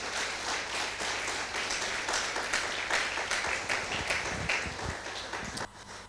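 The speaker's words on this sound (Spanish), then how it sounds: "¿Puedes darle un aplauso a Dios esta mañana?" A church congregation claps steadily in a sustained round of applause during a Spanish-language service, fairly distant and even throughout, with scattered louder claps near the end.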